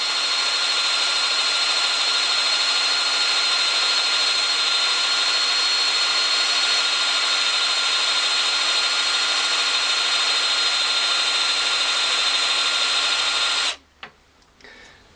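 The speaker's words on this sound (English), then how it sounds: "You'll note how easily the pieces of wood come out with the flat drill." A power drill with a flat bit boring through wood whines steadily and loudly at one pitch for a long stretch, then cuts off abruptly, leaving a few quiet clicks and knocks.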